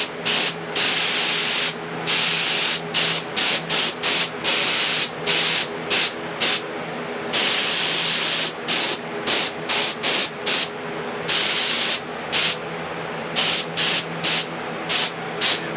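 Alumoluster chrome spray paint hisses from an aerosol can onto a full-size Alien flamethrower prop, loud and close in repeated bursts of varying length with brief gaps between them.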